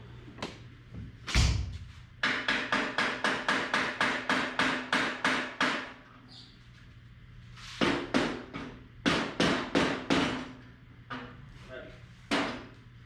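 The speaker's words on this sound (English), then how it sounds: "Let's grab a hammer and see if we can get that off." Repeated hammer blows strike metal while knocking a seated bearing off a kart, in a steady rhythm, a run of about ten, then a pause and several more heavy clanks, loud and close.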